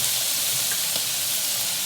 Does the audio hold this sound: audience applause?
no